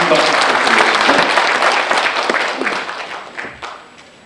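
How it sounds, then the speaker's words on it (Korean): A large round of audience applause at a Korean association's 2017 general meeting, dense clapping near and loud at first and thinning out toward the end, with a voice faintly over it. "큰 박수 부탁드리겠습니다"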